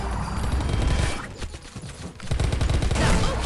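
Gunfire from Mini World Royale, with sustained rapid bursts of shots that are dense and loud. The firing thins briefly in the middle and then resumes strongly, and no voices come through.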